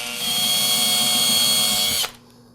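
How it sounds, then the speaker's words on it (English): A power drill bores through the metal face of a seal on a Troy-Bilt small frame transmission: a loud, steady high whine for about two seconds, then it cuts off abruptly, leaving a low hum. "I'm going to take a drill and just drill through the metal face of the"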